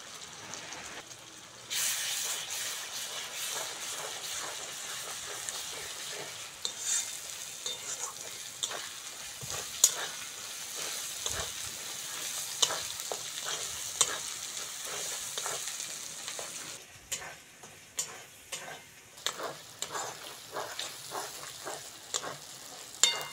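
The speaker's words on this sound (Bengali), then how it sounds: "এবার আদা রসুন বাটাটা দিয়ে দেবো। হলুদ," Ginger garlic paste with turmeric and chili powder frying in a pan for chicken lotpoti, a steady loud sizzle with repeated scraping stir strokes throughout, no talk.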